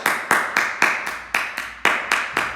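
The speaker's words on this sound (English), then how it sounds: "Let's give them a clap." Audience of schoolchildren and staff clapping at a school assembly to celebrate birthdays, with about ten sharp, evenly spaced claps or bursts over a couple of seconds, close and fairly loud, with no talk.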